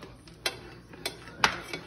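Utensil stirring mushrooms in a pan, a few sharp scraping clicks at irregular intervals over a quiet background, close and alone without speech.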